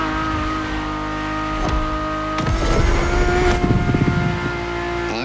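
A Ferrari supercar engine in The Crew Motorfest heard from the cabin, droning steadily with strong harmonic tones, then rising into a louder, rougher revving surge before easing back; no talk.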